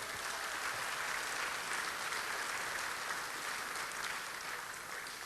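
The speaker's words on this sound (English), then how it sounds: "Give a round of applause for everybody." Applause from a banquet audience at an alumni dinner, a continuous, even roar of many hands clapping at once, heard from some distance at a low level without breaks.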